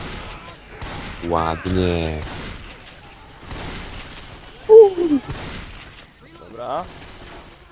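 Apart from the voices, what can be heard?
gunshots in video game Left 4 Dead 2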